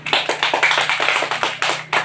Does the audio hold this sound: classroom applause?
yes